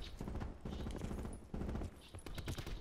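Rapid bursts of gunfire from the shooter game Call of Duty: Black Ops 4 come as fast repeated thuds in clusters, fairly faint and close, with no one speaking.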